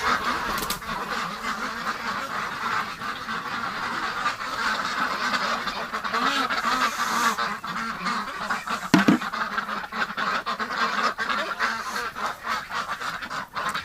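A flock of winter ducks keeps up a steady, restless stream of quacks and honks, fairly close, with a brief louder burst partway through and no talking.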